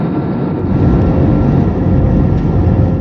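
Airplane accelerating down a runway and lifting off, heard from inside the cabin as a loud, steady broadband roar of engines and rumble that holds constant throughout with no talking.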